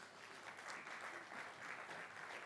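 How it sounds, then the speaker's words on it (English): Audience applause for the chair at a foundation event on reforms in Nigeria, a steady, fairly quiet wash of clapping that holds evenly for the whole stretch. "Another applause for our chair"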